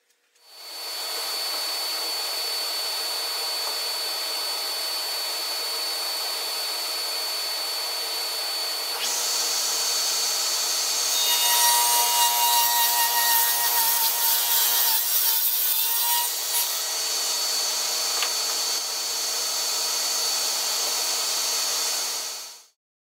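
A radial arm saw cuts wood for deck railing against an auxiliary fence, a loud continuous whine close by for about twenty seconds. It grows harsher midway as the blade bites through the board, then winds down.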